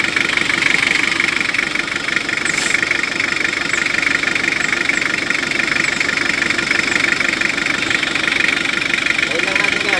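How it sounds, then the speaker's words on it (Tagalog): Toyota Revo engine idling with its air conditioning compressor cycling back on, a steady mid-pitched engine drone with a faint rapid knock throughout, close and even in loudness for the whole stretch. "Mga ilang seconds, maandar ulit yung compressor."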